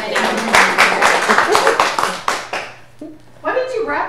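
A few people clap briefly during a casual live stream, sparse claps that soon give way to voices talking over light background sound.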